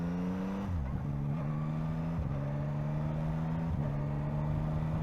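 A 2024 Yamaha MT-09 motorcycle accelerating with a quick shifter, its steady engine drone stepping through quick gear changes with brief dips and recoveries in pitch, loud and continuous.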